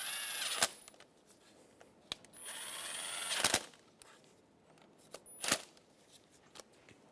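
Power tool on a Chevrolet Sonic snugging down ignition coil bolts: a few short bursts of whirring at close range, with brief clicks and pauses between them, no voices.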